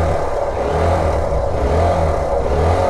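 Engine of a Honda Livo 110cc motorcycle running with a steady low drone and mild revving, continuous and fairly loud close by, with no talk.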